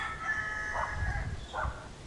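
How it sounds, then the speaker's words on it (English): A rooster crows in the distance in Puerto Vallarta, its drawn-out call faint against a steady outdoor background hum. "It's time to wake up, says that rooster."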